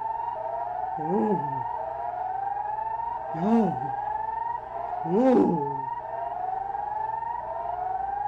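An emergency alert system alarm siren, a steady droning tone with repeated rising sweeps. A person reacts over it with three short, drawn-out exclamations.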